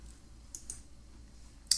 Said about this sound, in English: you can just press B on the keyboard